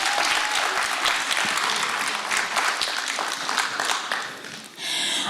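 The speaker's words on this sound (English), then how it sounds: "Let's give ourselves a round of applause." A conference audience claps steadily and fairly loudly, with the sound filling the room and continuing throughout before it starts to fade near the end.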